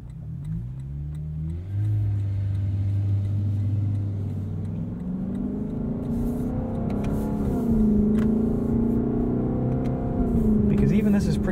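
A 2021 Lexus LC 500 coupe with a 10-speed gearbox drives under steady, loud engine drone, and its pitch drops and climbs through several gear changes as it downshifts from the cabin.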